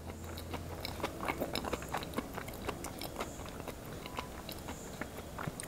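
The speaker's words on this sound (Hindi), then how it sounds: "आ भाई पहली बाइट" Someone takes a first bite of okra mutton curry and chews steadily, moist smacking and soft crunching repeating close to the mic over a low background hum, with no talk.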